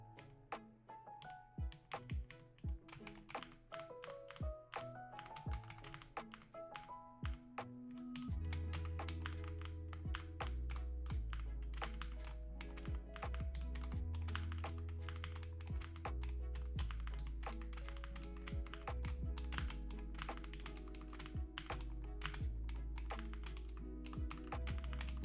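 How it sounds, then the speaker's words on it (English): Fast, continuous typing on a computer keyboard, a dense rapid clatter of key taps over a low sustained background hum that grows louder partway through, with no voices. "gonna be pressing a lot of keys really fast"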